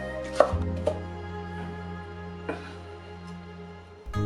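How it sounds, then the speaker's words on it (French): A knife chops the green tops of spring onion into thin rounds on a cutting board. Several sharp, distinct knife strikes land against a steady low hum in the kitchen, spaced irregularly over a few seconds. "Pour la branche de cébette, nous allons utiliser que la partie verte, qu'il faudra couper en fines rondelles."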